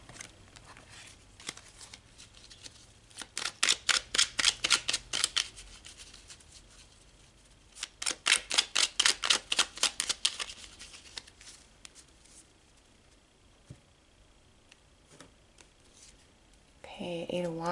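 Tarot cards are riffle-shuffled in two quick bursts of rapid, crisp flutters close up, separated by quieter handling and light rustling, with a voice speaking near the end.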